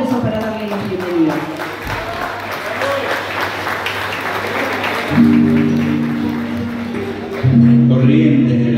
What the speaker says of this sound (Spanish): El aplauso fuerte para ellos y el aplauso para darle la bienvenida.